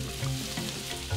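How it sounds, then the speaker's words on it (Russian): Chopped onion sizzles steadily in heated oil in a frying pan while shakshuka is being prepared, a continuous close crackling hiss with no talk over it. "Отправляю его на сковородку в разогретое масло"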